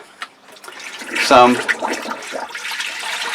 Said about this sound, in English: non-toxic antifreeze into the sink.